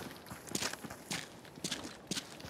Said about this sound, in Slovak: Počul som kroky.